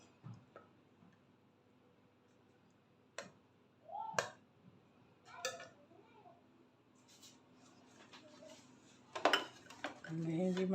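Utensils clink and scrape against a pot while chicken biryani is dished out, with sharp scattered metallic ticks and taps close by, louder near the end, plus faint voices in the background.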